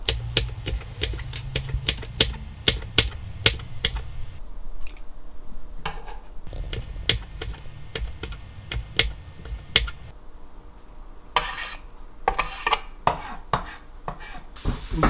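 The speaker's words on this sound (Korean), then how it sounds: "청양고추를 썰어." Cheongyang chili peppers being sliced with a knife on a cutting board, rapid, crisp rhythmic chops in quick bursts with brief pauses between them, close up and with no speech.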